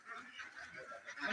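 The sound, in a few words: ducks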